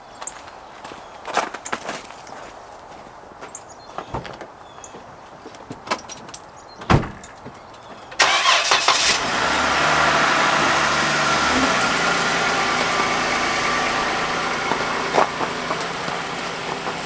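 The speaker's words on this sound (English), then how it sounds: "let's jump in the Jeep and let's get rolling" Footsteps and door thuds at the start of a winter camping trip, followed from about eight seconds by a steady engine rumble as the Jeep starts and idles, with no talk.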